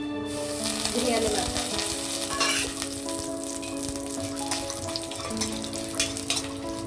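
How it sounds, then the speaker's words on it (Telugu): Biryani masala fries in leftover oil in a pan, a steady dense sizzle running throughout, close and loud with a few brief clinks and a steady background hum underneath. "అదే ఆయిల్లో నేను మసాలా వేసేస్తున్నాను"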